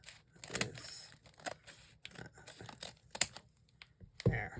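Scissors trimming folded paper for a handmade notebook: quiet, close snips and paper rustles in short irregular bursts, with no talking.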